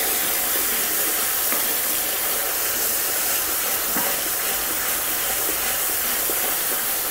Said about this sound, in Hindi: डाल के इसे भी अच्छे से फ्राई करिए कच्ची भू जाने तक।